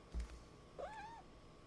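Miso, a pet cat, gives a single quiet chirping, chittering trill that rises and falls, short and close against a faint background hum.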